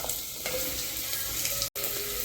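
Chopped vegetables go into hot oil tempered with cumin for pav bhaji, sizzling and frying steadily and close up, with stirring noises and a brief dropout near the end.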